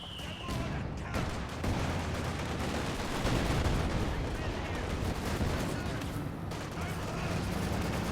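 Dense bursts of gunfire and booming tank shots from a World War II real-time strategy game match with T-70 and IS-2 tanks, continuous rattling volleys layered under a commentator's voice.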